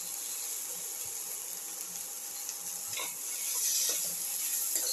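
Cauliflower pieces and salt are stirred in a pot, giving a faint, steady scraping and soft rustling with a few light knocks, close but quiet.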